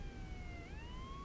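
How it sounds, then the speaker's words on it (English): Wailing police sirens in the video game Lucid9, several overlapping tones sweeping slowly and rising together, steady and fairly faint in the background with no talk. "approaching sirens, piercing the air with their incessant wailing"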